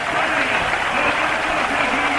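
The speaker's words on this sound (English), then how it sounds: "Tremendous cheer going up." A roadside crowd roars and cheers at a Tour de France stage finish in 1989, a dense, loud, continuous wash of voices and clapping with no pause.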